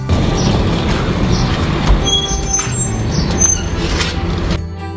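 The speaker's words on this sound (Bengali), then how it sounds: "আর এই যে আমাদের ট্রাম এসে গেছে" A tram pulls into a stop in Antalya, Turkey, with a loud, heavy rolling rumble, metallic clatter and a few thin wheel squeals. The noise eases off toward the end.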